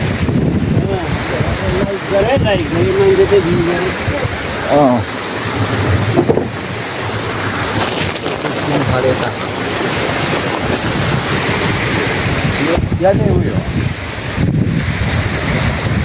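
Floodwater of the Koshi river rushes past in a loud, continuous roar with wind buffeting the microphone, while voices talk faintly over the churning flow.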